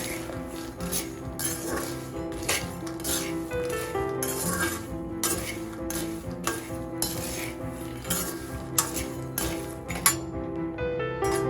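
Snacks dry-roasting without oil in a pan are stirred continuously, with repeated close metallic scrapes and clinks of a spoon against the pan over a faint background crackle.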